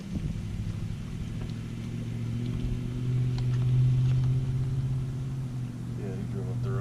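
A car drives up a road near a hunting tower, its engine making a steady low rumble with a droning hum that swells slightly midway, and a voice can be heard near the end.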